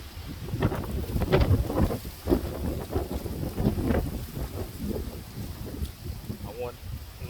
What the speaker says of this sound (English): It's very, very windy today